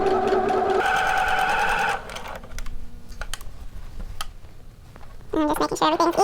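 A sewing machine stitches a seam on a pair of shorts in a quick, rapid burst, stops, then briefly runs again after a quiet pause filled with light handling noises.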